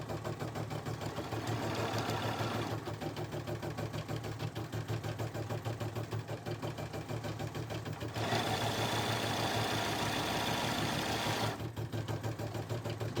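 A BERNINA embroidery machine stitches a bag, its steady mechanical hum running continuously with rapid needle chatter, shifting slightly in intensity partway through.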